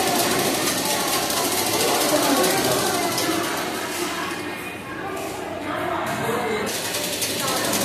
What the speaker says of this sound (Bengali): এটাও আমি একদিকটা সেলাই করে নেব